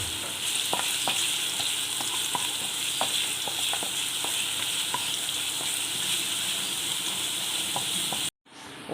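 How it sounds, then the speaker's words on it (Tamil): Six garlic cloves sautéing in hot oil for a Thai-style chicken curry, producing a steady bright sizzle with scattered crackles and light stirring taps, cutting out briefly near the end. "பூண்டு நல்லா வதக்கியாச்சு."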